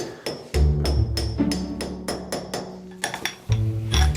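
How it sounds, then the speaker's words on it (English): A bearing being driven onto a shaft of a Delta disc/belt sander using a piece of black iron pipe, heard as a quick series of sharp, loud metallic hammer-like knocks, close and evenly spaced, with no voices. "I happen to have this piece of black iron pipe here that's the perfect fit to press this bearing on."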